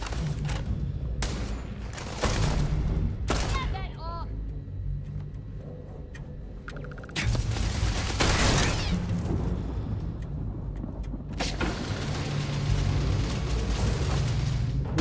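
Bursts of video game gunfire and booms from a sci-fi space battle against a turret and a robot, several loud blasts and rumbling impacts spread across the span, with brief quieter gaps between.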